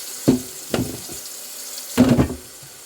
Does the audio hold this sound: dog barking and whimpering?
no